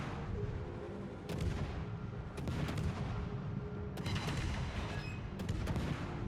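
Warship guns fire in the World of Warships naval battle game while the Druid shoots at an enemy Vincent, with several sharp booming salvos spaced a second or so apart over a constant engine and sea rumble.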